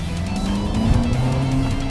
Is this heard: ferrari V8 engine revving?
yes